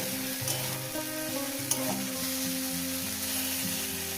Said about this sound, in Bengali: ভালো করে সুন্দর করে এক থেকে দু মিনিট এটাকে ফ্রাই করে নেব